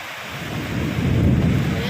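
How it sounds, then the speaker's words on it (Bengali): Heavy rain pours down in a dense roar while low thunder rumbles and swells, close and loud. "আবারও ভালো জোরে বৃষ্টি পড়ছে কি জোরে বিদ্যুৎ চমকাচ্ছে"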